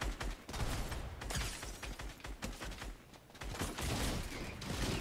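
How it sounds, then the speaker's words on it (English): Rapid bursts of gunfire in a video game firefight, dense overlapping shots in close succession filling the whole stretch, loud and continuous with no talk. "We're being shot at."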